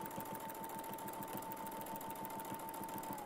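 A sewing machine double-stitches along a line guided by a Westalee Spin E ruler, a steady close motor drone with a fast repeating needle rhythm and a sustained whine throughout, no talk.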